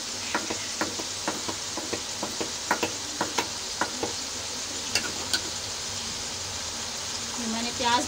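Chicken browning in ghee in a pot for a korma, a soft background sizzle punctuated by repeated clinking stirs of a spoon against the pan, fairly quiet with a brief louder scrape at the end.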